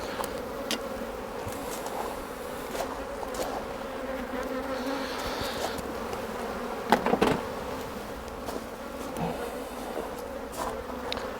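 Honeybees buzz steadily around an open hive as a super is handled, a dense, continuous hum with a few louder close passes and faint knocks of equipment, no voices.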